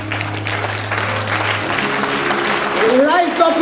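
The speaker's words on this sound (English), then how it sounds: "I want you to rise up and clap for yourself." A church congregation breaks into sustained applause that swells over the full few seconds, with a pastor's voice and sustained music tones underneath.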